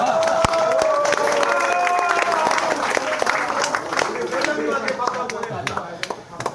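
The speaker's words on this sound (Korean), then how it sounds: "우리 여성 회원님들한테 박수 한번 보내주십시오." At a Korean members' gathering on a cultural outing, a crowd applauds the women members with clapping and some cheering, while voices talk and call out over it and the sound thins toward the end.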